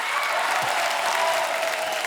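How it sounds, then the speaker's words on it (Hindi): A television comedy show's studio audience gives loud, sustained applause, a dense wash of clapping that holds steady for a couple of seconds without talk over it. "जोरदार तालियां."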